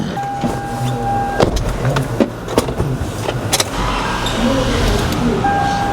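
A Toyota Sienna minivan with a TRD motor is backed out of a shop, its engine giving a steady low rumble broken by a few sharp clunks and knocks, with faint voices nearby.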